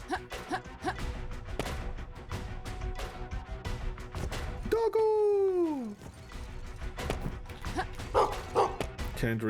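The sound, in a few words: dog barking in video game Gestalt: Steam and Cinder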